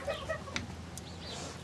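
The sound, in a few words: chicken clucking in a chicken coop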